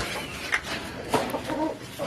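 Hens and roosters of a backyard Malayali poultry flock clucking close by, a few short squawks and murmuring calls scattered over a steady background hiss.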